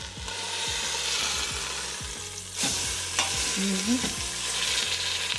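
Beef pot roast sears in an Instant Pot with a steady sizzle and frying crackle, plus the scrape and clatter of stirring and a few louder knocks and bumps from about halfway through; no one talks.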